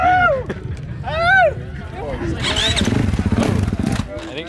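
Dirt bike engine at the Glamis sand dunes fires up and revs, its rough rising drone running steadily under loud excited talk and shouting.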